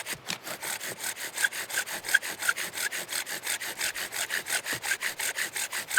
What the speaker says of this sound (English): It's making that nice